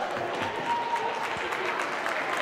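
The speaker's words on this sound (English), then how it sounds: "Cheer for the teams." A roller derby crowd cheers and applauds both teams after Oslo Roller Derby and Kallio Rolling Rainbow's games, a dense, continuous wash of clapping and shouts throughout.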